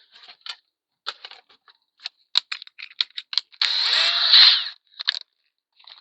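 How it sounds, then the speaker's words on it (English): A power drill with a 1/4 inch bit bores a hole in a corner while installing a dual light switch in a Bushwhacker camper; a steady grinding burst of about a second follows scattered short clicks and taps. "So I'm going to use a 1/4 inch drill bit."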